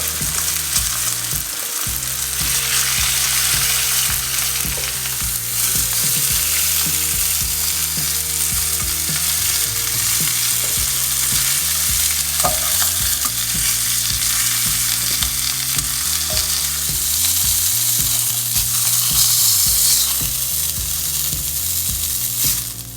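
Beef short ribs, seasoned with salt and pepper, brown in a hot pan with a loud, constant sizzle and crackle throughout, plus occasional clanks and shifting scrapes against the pan.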